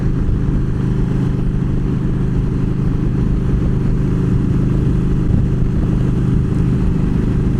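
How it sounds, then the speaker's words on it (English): A motorcycle rides along an East Coast road in fall, with a loud, steady engine drone and rushing wind that hold level throughout, with no voices. "So here I am, out on a bike, out for a nice little journey."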